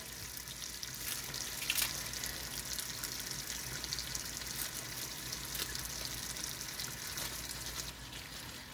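Tomatillos are rinsed under a running faucet, a steady, soft rush of water with faint splashes and occasional clinks, close and continuous with no speech.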